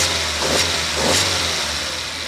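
A 2025 Maruti Brezza CNG LXI engine runs close by with a steady mid-pitched hum, lifting in two brief revs over a short stretch.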